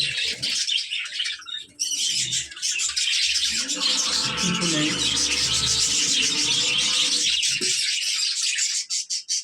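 Budgerigars around clay nest pots, one hen about to lay eggs, keep up a dense, close chatter of scratchy chirps and rasping calls with a few brief pauses.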